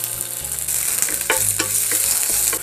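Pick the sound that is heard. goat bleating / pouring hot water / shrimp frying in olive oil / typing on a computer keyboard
shrimp frying in olive oil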